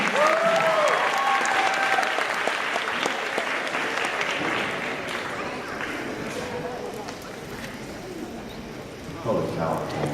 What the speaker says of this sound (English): you can clap more at that